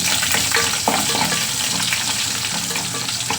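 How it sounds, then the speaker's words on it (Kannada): A single dried red chili sizzles in hot oil in a home kitchen. The frying is loud, steady and crackling throughout, heard up close with no voices. "ಒಂದೇ ಒಂದು ಒಣಗಿದ ಮೆಣಸಿನ್ಕಾಯಿ ಹಾಕ್ತೀನಿ ನಾನು ಯಾವಾಗಲೂ"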